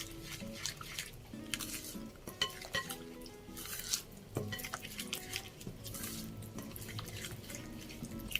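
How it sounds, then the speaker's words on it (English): Flour and desiccated coconut are stirred together in a bowl, giving soft, irregular scraping and clinking kitchen sounds at low volume for several seconds, with no talking. "here I'm going to mix it bit by bit in between with my desiccated coconut"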